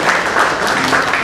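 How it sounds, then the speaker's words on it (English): Seminar audience applauding, a brief, dense burst of many hands clapping close together with no gaps, heard for just over a second. "A big round of applause for Anush Poddar also."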